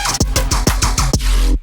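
Bass house kick drum with its high end stripped away, played in a full mix so it sinks beneath a dense, loud synth bass; the thumps repeat roughly every fifth of a second and are hard to pick out.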